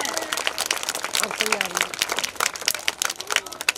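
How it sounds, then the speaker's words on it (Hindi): Children clap together at a Republic Day school gathering, a busy, fairly close patter of applause running under an adult talking loudly. "बच्चे ताली बजाएं"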